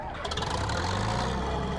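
A combine harvester's engine turns over and settles into a steady low rumbling idle in Farming Simulator 19, heard close and continuous with no talking.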